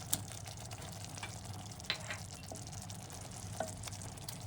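Shrimp frying in a pan for a vermicelli-stuffed red hamour dish, a soft steady sizzle at low level with occasional light clicks and taps of stirring utensils.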